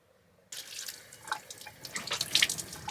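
A tap suddenly opens inside a van and water runs into the sink while someone washes their face, a steady splashing stream that grows busier with scattered splashes and drips.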